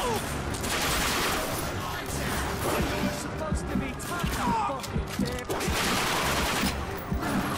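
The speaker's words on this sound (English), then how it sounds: "Let's shoot at that light." Gunfire from the video game The Darkness 2 rings out in repeated bursts and single shots over roughly eight seconds, mixed with crashes and game effects.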